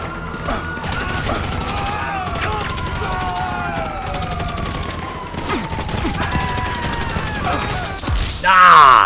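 Carbine rifle gunfire in the video game GTA 5, rapid bursts of shots over a sustained wailing police siren and game noise, with someone talking throughout.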